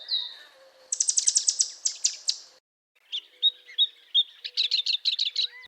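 A small Arizona backyard bird singing close by in clear bursts of rapid, sharp chirping notes, two phrases split by a brief pause, with little background noise.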